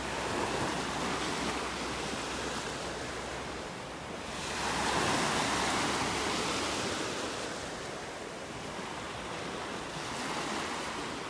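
Ocean waves breaking on a beach in North Naples, Florida, a continuous soft wash of surf that swells and recedes in slow surges, heard from close by with light wind.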